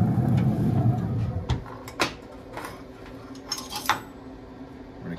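Cutlery cuts into a grilled wahoo fish fillet, a few sharp clinks and scrapes against a plate following a louder rustling start, close and sparse with no talk.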